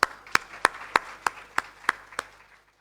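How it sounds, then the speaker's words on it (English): Rhythmic hand claps at an awards ceremony, about nine sharp evenly spaced claps over roughly two and a half seconds, fairly close and moderately loud, then fading to quiet. "Round of applause for that."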